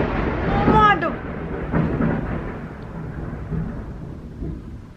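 A thunderstorm rolls through with loud, close thunder rumbling in a long continuous roll that swells early and then lingers; a brief voice-like tone may sit near the start.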